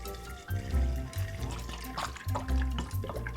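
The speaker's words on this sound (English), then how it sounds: "I'm just gonna pour this into the barrel." Nocino walnut liqueur poured into a small barrel, a soft, steady gurgling stream with bubbling glugs, fairly quiet and heard without any talking.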